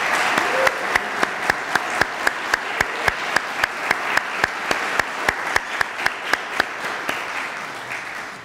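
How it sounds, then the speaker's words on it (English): An audience at an Optimist Club youth program claps for the young honorees, a dense steady round of applause with a few sharp louder claps standing out, fading slightly at the end. "Would you stand up, young people, and so we can give you a round of applause for being here with us."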